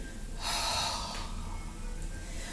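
Sharp breath taken in and pushed out during a home Pilates routine for the lower abdominals, one quick audible inhale-exhale close to the mic over a quiet room.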